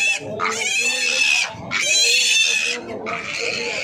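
Two large pigs at a livestock stockyard squeal loudly and shrilly in three long, close bursts, with low grunting underneath.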